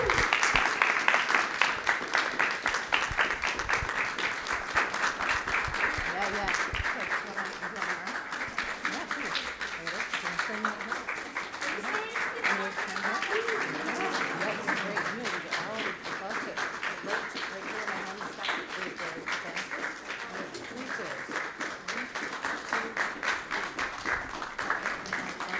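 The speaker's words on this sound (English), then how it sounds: "Your applause is very flattering" Sustained audience applause at a convention poetry slam, dense and steady for the whole stretch as a performer takes the stage, with faint voices under the clapping.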